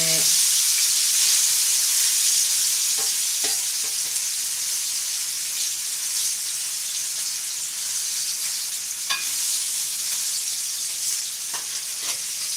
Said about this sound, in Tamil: மீன் குழம்பு வச்சு மீன் ஃப்ரை பண்ணிகிட்ருக்கேன்